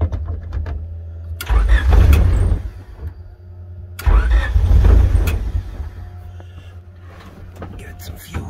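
A car engine cranks and catches twice, each start swelling into a loud low rumble before easing back to a steady idle, heard close up with no talking.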